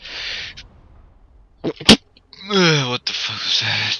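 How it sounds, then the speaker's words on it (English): A held-in, suppressed sneeze bursts out sharply and briefly mid-clip during a Destruction Derby round in GTA San Andreas multiplayer, with talk before and a startled voice right after. "That was a sneeze that I tried to hold in."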